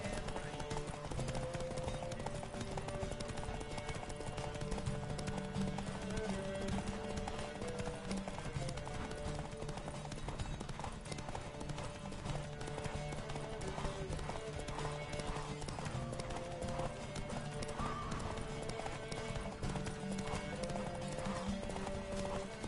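Horse hooves gallop at speed in Witcher 3: Wild Hunt, a fast steady clip-clop running throughout under game music and ambience, with a whinny in the mix.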